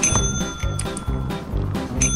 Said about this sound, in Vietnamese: Anh ấn chuông đi, ấn chuông là nó ra.